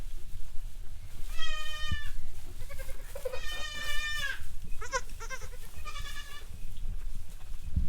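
Several Mini Nubian goats holler in loud, drawn-out bleats, with three main bursts and a few shorter calls between them, heard over a steady background hum in a barn.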